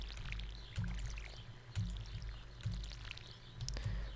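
Watering cauliflower crops with a watering can in Stardew Valley: a soft pouring splash plays about five times at a steady rhythm over a low, continuous game background hum.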